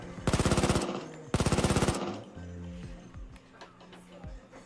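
Two loud bursts of rapid automatic gunfire from the video game Payday 2, each about half a second of evenly spaced shots. Quieter game effects and low tones follow with no speech.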